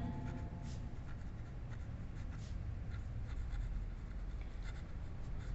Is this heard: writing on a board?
yes